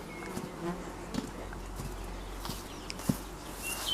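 Honeybees flying around a hive in the morning, a continuous buzzing hum from many insects with individual bees passing close, moderately loud and steady with no talking.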